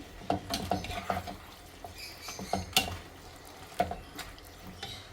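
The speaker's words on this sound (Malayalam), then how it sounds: "നന്നായി ഇളക്കി ചേർക്കാം." Dragon chicken being stirred in a pan with a utensil, giving intermittent scraping and sharp clinking strokes in an uneven rhythm, close and moderately loud with no talking.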